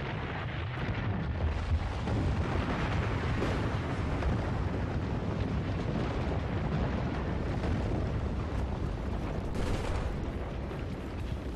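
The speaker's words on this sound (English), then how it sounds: "It's still pretty fucking fun to watch the whole dam come apart." The Lancang Dam collapsing in Battlefield 4 gives a sustained, thunderous roar of crumbling concrete and rushing debris, broad and loud throughout, with scattered bursts and pops.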